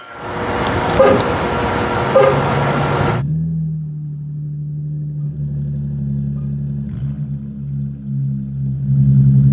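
A Chrysler 300 with BigBoz mufflers and straight-piped exhaust gives a loud, rough burst of engine noise, then settles into a deep, steady, rumbling idle drone.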